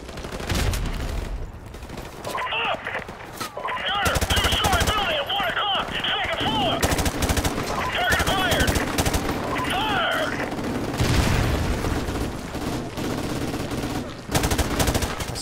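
Bursts of automatic gunfire in Call of Duty: Modern Warfare Remastered, loud and close, with sharp cracks and rattling volleys spread across the scene while someone talks over the shooting.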